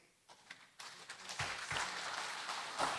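Applause from an audience at a regional government plenary session in Southeast Maluku starts faintly with scattered claps, then swells into steady, fairly distant clapping from a large hall crowd.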